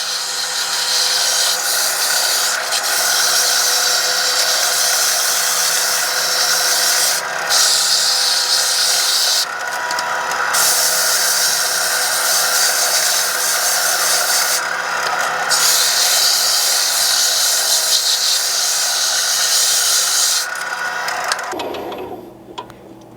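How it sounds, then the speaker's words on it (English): Sandpaper is held against a spinning wooden rod grip on a lathe, giving a loud, steady whirring drone with abrasive hiss. It runs unbroken for about twenty seconds, then the machine winds down at the end. "I'm just going to continue to work the sandpaper to shape the grip that I want"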